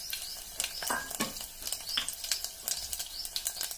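Tempering spices crackling in hot oil for a bachelor-style sambar, faint close sizzling with sharp spitting pops and light stirring scrapes, with no talking.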